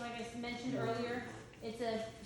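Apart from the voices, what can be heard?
None of the usual background noises is heard.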